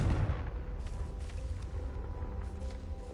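A Confringo blasting spell goes off in the video game Hogwarts Legacy, a deep rumbling explosion with a heavy low-end boom that rolls on steadily with no pause for about three seconds.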